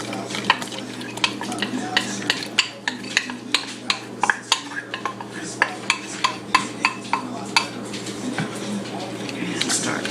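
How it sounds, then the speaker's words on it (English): Spoon scraping and clinking against a pot while chocolate pie filling is stirred, a steady run of sharp regular taps over a low constant hum, close and fairly loud, with no voices. "And start stirring some more."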